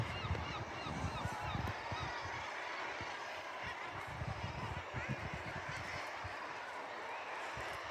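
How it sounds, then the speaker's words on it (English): Seabirds call en masse from the South Stack bird cliffs on Anglesey, a dense, continuous chorus of honking, cackling cries rising from far below, steady throughout with wind-like hiss. "That's some kind of birds."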